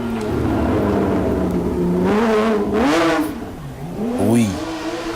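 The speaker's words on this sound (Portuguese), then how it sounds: "Sempre bem bonito e audível este Porsche imponente, grande potência, este 997 GT3." Porsche 997 GT3 rally car at the Rali Vinho Madeira, its engine loud and near, holding a strong steady drone, then rising in pitch as it accelerates past, dipping and surging again.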